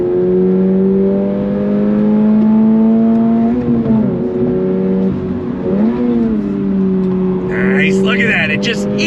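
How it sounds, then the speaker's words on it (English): 2023 Toyota GR86 sports car accelerating hard through corners, a loud, steady engine drone rising in pitch with brief dips at shifts or throttle lifts, and a voice speaking near the end. "On throttle, here we go."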